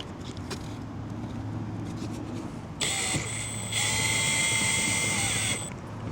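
A drill bores 3/32 holes for self-tapping screws in a Ford Transit rear van door, giving a sharp high-pitched whine that starts abruptly partway through and holds for a few seconds over a lower steady hum.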